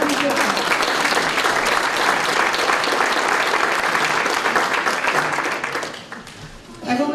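Sustained applause and clapping from an audience at a city hometown heroes awards event, loud and continuous for about six seconds before tapering off, with a few voices and a final burst at the end.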